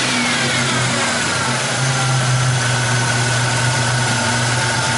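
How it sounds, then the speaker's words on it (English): A Buick Grand National engine runs close and loud as the throttle is snapped, its steady drone swelling briefly into a rev before settling back, with no talk over it. "So you snap the throttle."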